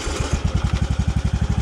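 A tractor engine runs at a steady, rapid chug, loud and close, with even throbbing pulses throughout and no talking.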